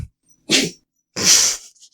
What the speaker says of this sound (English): she sneezed really loud